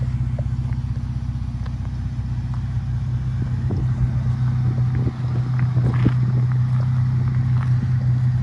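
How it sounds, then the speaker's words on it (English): A 1966 Ford F100 pickup truck engine idles quietly with a low, steady rumble that runs on evenly and alone throughout. "Here sitting there idling now, it's just very quiet. It's got a bit of a rumble at an idle."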